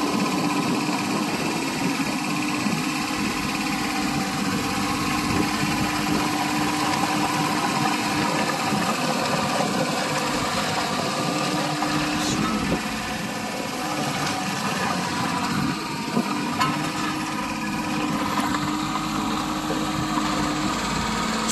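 Komatsu PC07-2 mini excavator engine runs steadily for the whole stretch, a constant close mechanical drone with no pauses and no talk.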